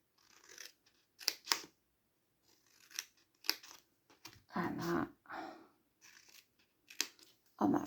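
Scissors snip through paper while a box and lid are cut out, making a series of short, crisp, close cuts spaced irregularly with quiet gaps between them.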